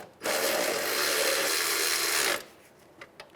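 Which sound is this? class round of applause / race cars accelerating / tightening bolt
tightening bolt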